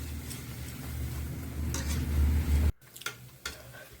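Banana pitha frying in oil in a pan, a steady soft sizzle with occasional utensil clicks, cut off abruptly partway, followed by a few light taps.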